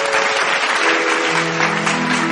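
Loud, sustained audience applause welcomes a singer onto a devotional music stage, a dense wash of clapping over a steady held musical tone.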